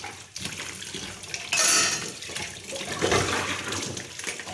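Running tap water splashes steadily in a home kitchen sink as dishes are washed by hand, with a louder surge of flow partway through and continuous splashing throughout; no one speaks.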